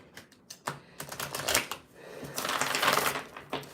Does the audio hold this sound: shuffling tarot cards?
yes